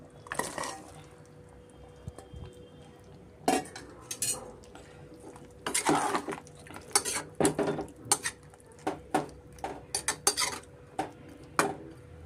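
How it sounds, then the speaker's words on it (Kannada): Fried cauliflower and peas go into a boiling gravy for gobi matar: a spoon clinks and scrapes against a pot in irregular bursts with quiet gaps between, close by, and no one talks. "ಇವಾಗ ಇದಕ್ಕೆ ನಾನು ಗೋಬಿ ಬಟಾಣಿ ಫ್ರೈ ಮಾಡಿದ್ದು ಸೇರಿಸ್ಕೊತಾ ಇದ್ದೀನಿ"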